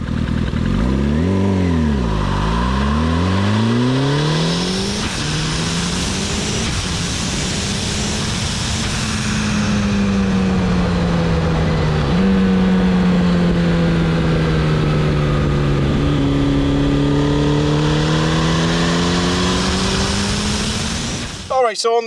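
Turbocharged 1991 Suzuki GSX-R motorcycle engine revving hard, with rising and falling sweeps early on, then sustained high-rpm pulls and gear changes, loud and close throughout, ending with an abrupt cut-off.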